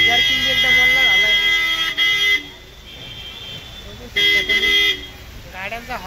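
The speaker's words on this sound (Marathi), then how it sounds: "गाड्यांचा हॉर्न आणि ट्रॅफिक वगैरे" Car horns blare in wet monsoon street traffic near the Ganga ghat in Nashik, sustained tonal honks sounding loud and close in two long bursts with quieter traffic noise between them.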